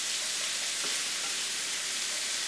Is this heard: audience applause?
no